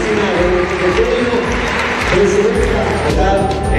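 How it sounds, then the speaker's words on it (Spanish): A crowd claps for Dr. Cristina Rodríguez at a school eyeglasses delivery event, continuous and fairly loud, with a pulsing low rhythm and speech mixed in. "Un aplauso para la doctora Cristina Rodríguez."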